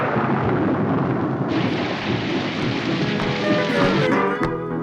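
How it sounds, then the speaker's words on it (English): Heavy rain pours and splatters continuously against a car windshield, a dense hissing wash of drops with a few sharper knocks. "The unexpected rain splashed against our windshield"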